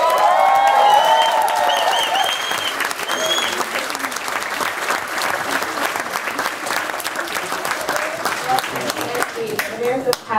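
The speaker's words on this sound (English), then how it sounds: "Please give a big round of applause to Professor Happy." Sustained audience applause at a leadership summit debate, a dense wash of clapping from a large crowd that holds steady for the full stretch with scattered cheers early on.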